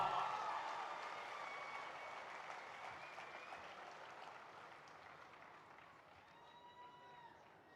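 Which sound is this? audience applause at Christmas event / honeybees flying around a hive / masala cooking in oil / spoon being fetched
audience applause at Christmas event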